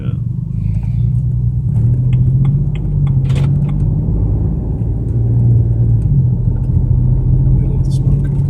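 A BMW 335i with a fueling fault that floods a cylinder with fuel rumbles steadily while being driven, a low continuous drone with faint clicks and voices talking over it.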